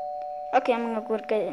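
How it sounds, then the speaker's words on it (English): A doorbell chimes indoors, one steady tone heard briefly on its own before a person starts talking over its fading ring. "That was the doorbell."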